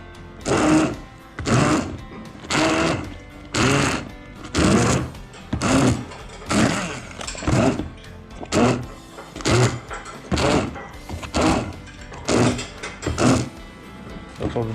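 A blender blitzes seafood and prawn heads for a paella stock, giving loud, close bursts of grinding motor whir that pulse on and off in a regular rhythm, about a dozen times in a row.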